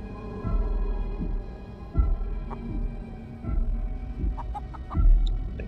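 Video game chicken clucking in short bursts, several soft clucks spaced across the stretch over a steady low background of game ambience.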